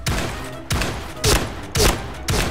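Gunfire in the shooting game Point Blank, five heavy booming shots in a fairly even rhythm about half a second apart, each loud and close with a short rumbling tail and no speech over it.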